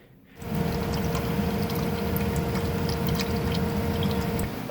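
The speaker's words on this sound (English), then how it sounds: "got the coolant draining here" Coolant drains from a Grand Marquis 4.6 V8 engine, starting abruptly after a short quiet moment and then running as a steady, close splashing pour of liquid, continuous and alone without talk.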